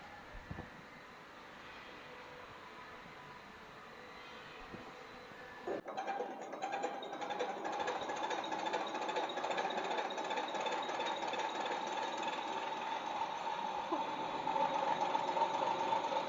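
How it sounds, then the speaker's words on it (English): Diesel injection pump test bench (MINI12PSB) testing a mechanical pump: a steady machine hum that jumps to a louder, denser running drone partway through and holds continuously to the end, with no talk. "Now we will show you how to testing mechanical pumps on our MINI12PSB diesel injection pump test bench."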